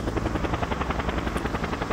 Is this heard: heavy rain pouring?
no